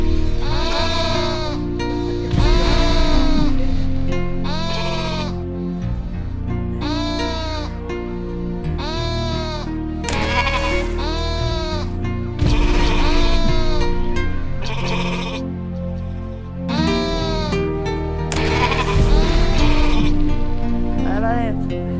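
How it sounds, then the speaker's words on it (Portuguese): Sheep bleat again and again in a video game, loud and close. Wavering calls repeat every couple of seconds over a constant low musical background. "Pastoreia a ovelha para dentro do cercado, não deixa a ovelha negra entrar."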